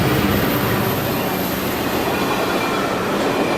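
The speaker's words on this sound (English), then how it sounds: "San Joaquin Train 710 rolls over the SP Makoko line on the flyover at Nichols" San Joaquin passenger Train 710 rolls across a flyover at Nichols above the SP line, a dense, steady roar of wheels and wagons filling the whole stretch without pause.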